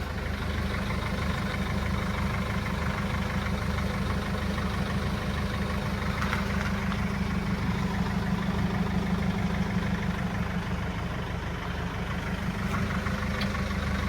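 A diesel engine in a former police CCTV van, a 3.5-ton vehicle, idles steadily and close by, a constant low rumble with no one speaking over it.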